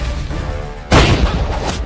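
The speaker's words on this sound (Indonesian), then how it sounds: "Beta bisa mendengar ledakan meriam lagi" Cannon fire in an animated movie: a sudden loud boom bursts in after a steady background bed and rumbles on densely to the end.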